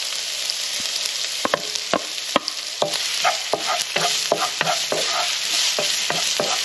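Garlic, ginger and onion sautéing in a pan, a steady close hiss of frying broken by repeated sharp scrapes and clicks of stirring, with no talk.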